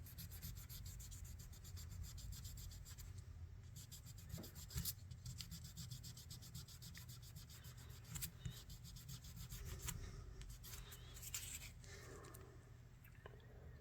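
Sandpaper rubs steadily over the covers of a vintage electrician's knife, a faint, continuous rasping scrape with a few louder strokes and no voices.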